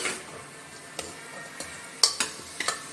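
Spiced masala and bottle gourd (ghiya/lauki) roasting in a pan, with a soft steady sizzle and several sharp scrapes of a spoon stirring, close by and quiet, no talking.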